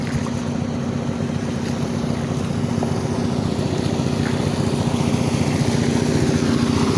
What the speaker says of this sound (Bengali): ছোট একটা নৌকা আসছে সামনে